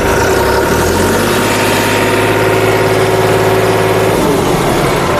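A New Holland 3630 4WD tractor's diesel engine idles steadily and loudly up close, a continuous low rumble with a faint vibration that holds throughout.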